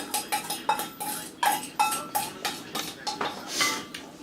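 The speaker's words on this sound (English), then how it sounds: "We're going to get this all stirred up." A spoon scrapes and clinks against a bowl as egg and vanilla are stirred into cookie dough, in a quick steady rhythm of close, sharp strokes.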